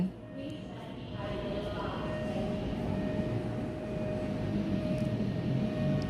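An Airport Rail Link train rumbles steadily into Phaya Thai station in Bangkok, a broad continuous roar with a faint high whine running throughout.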